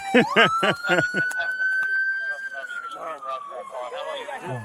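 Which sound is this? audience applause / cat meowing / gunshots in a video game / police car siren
police car siren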